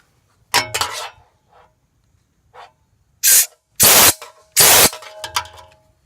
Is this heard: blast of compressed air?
yes